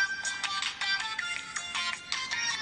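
Repeating electronic phone ringtone for an incoming call, bright warbling bursts in a steady pulsing pattern, moderately loud and alone with no talk.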